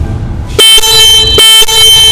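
Two loud, sharp blasts of a JAWA motorcycle horn, short and high-pitched, sounding up close with a brief pause between them.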